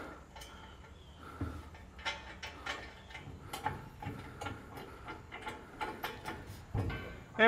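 A nut and lock washer are threaded onto a hitch bolt while a fifth wheel hitch is installed on a 2012 GMC Sierra, giving soft metallic clicks, light clinks and ratcheting taps at close range, with faint background noise.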